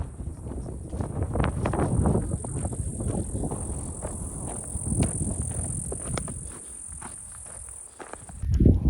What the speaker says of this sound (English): I'm sure you can hear all these, like, I don't know what they are, cicadas or crickets or whatever, making all this noise.